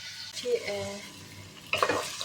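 Carrots and onions fry quietly in a pan, with a faint sizzle, a few stirring scrapes and clinks of a utensil against the pan, and soft talking over it.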